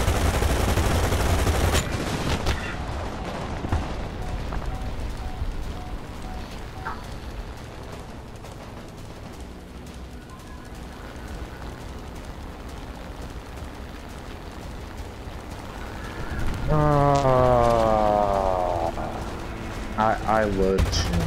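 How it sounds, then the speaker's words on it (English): Gunfire from an M40 in War Thunder breaks out in scattered bursts within a long, mostly subdued stretch, with a loud blast near the end and people talking over it. "I see an M40 shooting at our guy"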